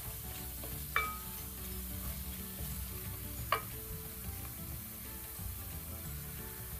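Pork roast masala sizzles steadily in a pan with curry leaves, a constant close frying hiss with two sharp clinks of a utensil against the pan.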